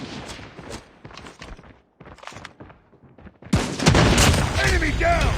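Rapid bursts of marksman rifle fire in Call of Duty Mobile, loud and close, over in-game voice callouts and background battle noise, with a denser volley of shots and effects in the final stretch.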